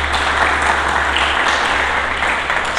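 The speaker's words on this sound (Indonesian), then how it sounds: "Mari berikan tepuk tangan bagi Tuhan." A church congregation applauds during a Sunday sermon, a dense, steady wash of clapping from many hands that keeps going evenly for the full stretch without any pause or spoken voice over it.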